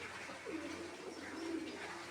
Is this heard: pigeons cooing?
yes